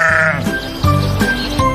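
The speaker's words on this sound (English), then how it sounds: "S is for sheep." Sheep bleating loudly and close, several wavering calls in quick succession with no other sounds.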